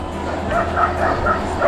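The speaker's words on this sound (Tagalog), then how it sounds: "Ang daming aso." Several dogs yip and bark in quick bursts at a cyclist on a steep uphill river loop, heard through heavy wind and road rumble.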